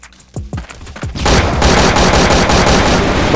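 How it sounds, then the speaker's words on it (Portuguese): Video-game shooter gunfire, a few separate loud shots followed by continuous rapid automatic fire that fills the rest, close and without talk. "Tomou tiro, tomou tiro."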